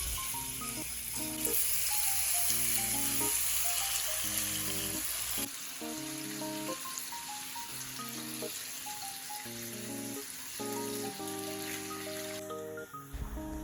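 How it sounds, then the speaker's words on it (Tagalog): Bacon fries in a pan still holding leftover oil from cooking fries, a steady close sizzle and crackle that runs throughout under background music, with no talk. "Dito na nga po ako magpuprito sa pinaglutuan ni Mama ng fries"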